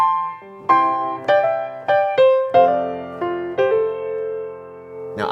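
Solo piano plays an opening melody with slip notes, quick grace-note bends leading into each of about eight struck notes and chords that ring on, close and clear with no talking.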